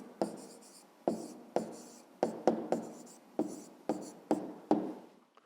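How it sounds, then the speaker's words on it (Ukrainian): A pen writes an answer by hand on paper for a fifth-grade math exercise: about ten quick, crisp scratching strokes in an uneven rhythm, close and fairly quiet, with no voices. "а зараз записуємо відповідь, пишемо відповідь"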